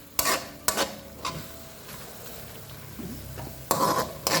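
Tomatoes and onions sauté in a pan while chicken feet are being cooked, with a low sizzle under a few sharp clanks and scrapes of a spatula against the metal, the clatter coming in short bursts.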